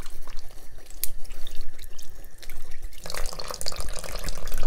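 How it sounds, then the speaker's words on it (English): Tap water runs steadily into a bathroom sink onto a washcloth, a continuous close splashing that grows louder and fuller partway through. "I do have water running in the sink on a washcloth"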